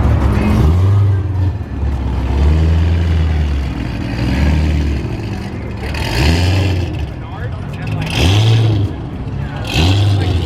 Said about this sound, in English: They just started up the Z06.